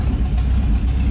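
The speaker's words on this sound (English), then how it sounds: "Good sound of the exhaust." A 1941 Buick engine, run after sitting for 38 years, idling with its exhaust note: a steady, low, even rumble held close and loud for about a second, with no voices.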